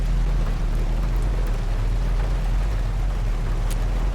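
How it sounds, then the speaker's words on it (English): Steady rain falls in a continuous dense hiss with a low rumble beneath it, heard from inside or near a car, loud and unbroken throughout with no talking. "It is raining."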